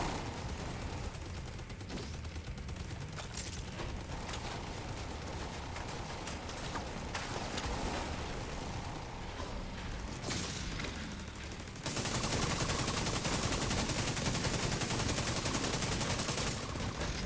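Dense automatic gunfire from the shooter game The Division 2 rattles on continuously, with a brief lull before an even louder, sustained burst near the end.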